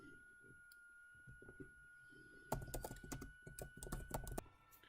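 Computer keyboard typing starts halfway through as a quick burst of close, crisp key clicks after a quieter stretch of faint handling noise, then stops near the end.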